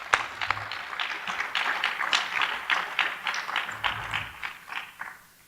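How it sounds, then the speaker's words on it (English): Audience applause for a university forum panel, a steady wash of clapping hands from a room of people that carries on for several seconds and thins out at the end, with no talk over it. "Now we can give this wonderful panel a round of applause."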